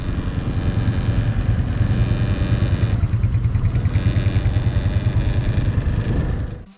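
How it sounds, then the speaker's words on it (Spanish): A 2023 Honda Navi motorcycle engine runs close by with a steady, low, pulsing putter, then cuts off abruptly. "Como ven, ahí ya está encendida la moto."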